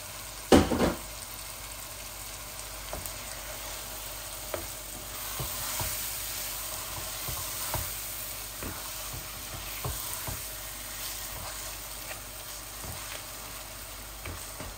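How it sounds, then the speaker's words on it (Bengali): Three pieces of chicken breast hit hot spice masala in a pan with a sudden loud splash, then a steady sizzle continues with scattered stirring clicks and scrapes. "এখন আমি চিকেনগুলা ঢেলে দিচ্ছি।"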